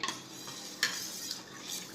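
A spoon stirs buttermilk and spice paste together in a pot for Gujarati kadhi, giving a soft, continuous swishing with a few light scrapes against the vessel. There is no talking.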